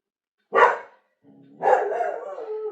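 A dog gives one sharp bark, then after a short pause a longer, drawn-out bark that trails into a whiny howl, close by with no talking.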